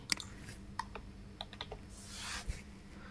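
Someone types on a computer keyboard, a short burst of quick, light key clicks in a quiet room, close and soft, with a faint steady hum underneath and no voices.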